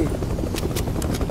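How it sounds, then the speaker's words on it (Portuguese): Helicopter drawing nearer in the battle royale game Fortnite, a steady low rotor rumble with faint rhythmic blade chop, fairly loud and continuous through the short stretch. "Está a chegar outro helicóptero, está a chegar outro helicóptero aí."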